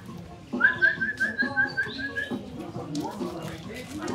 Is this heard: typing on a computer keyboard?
no